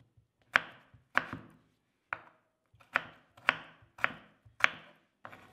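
A knife chops potatoes on a board, about ten sharp, close thuds at an uneven pace with short pauses between them, with no talk.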